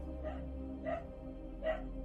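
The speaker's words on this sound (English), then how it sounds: "Sorry about the dog." A dog gives three short, muffled barks at a steady pace, somewhat distant, over a constant low background hum.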